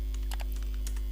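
Computer keyboard typing with a quick run of key clicks and a final enter press, close and clear over a steady mains hum, during an R programming session.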